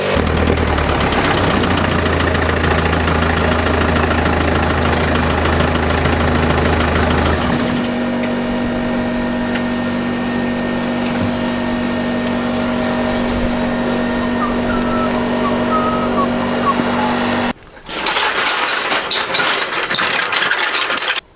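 A Land Rover engine idles steadily with a low, even rumble and a steady hum, loud and close, with a shift in tone partway through and an abrupt change near the end.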